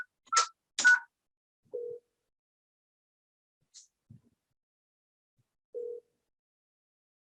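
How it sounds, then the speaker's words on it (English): Desk office phone keypad dialing, a few short separate tone beeps with gaps of near silence between them, close and clear. "Joe's phone is ringing"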